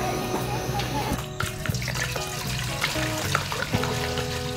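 Water pours and splashes continuously into a vessel outdoors while tea is made during a Malvan trip, with clinks and some background voices.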